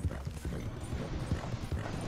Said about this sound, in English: My horse is hauling ass.